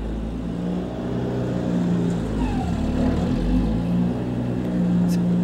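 A tractor engine plowing snow off a deck drones and revs in low, surging swells, running continuously at moderate volume with background voices.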